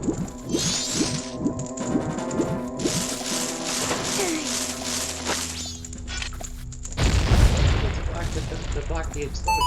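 An explosion from The Legend of Zelda: Majora's Mask bursts out as a loud, booming blast late in the sequence, following busy game effects and music.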